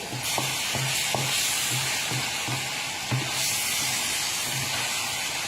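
Fried tofu being tossed with oil on a plate, a steady sizzling hiss with soft repeated stirring scrapes in a regular rhythm, close and continuous, with no talking.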